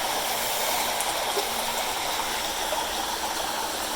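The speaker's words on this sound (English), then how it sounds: "It looks like the gentle water music is lulling Walter to sleep." A gentle outdoor stream flows on a summer day, its continuous babbling rush steady and fairly close, with no voices over it.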